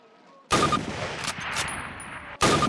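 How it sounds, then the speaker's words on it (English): Springfield rifle shots in Call of Duty on a firing range, two sharp, loud blasts with a ringing tail between them, close and without talk. "Turn to the left, move to the fence, and fire 2 rounds at your target."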